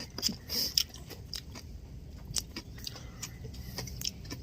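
Crisp, close bites and chewing on crunchy raw papaya, a steady series of sharp crunches and softer mastication sounds, fairly quiet with no talking.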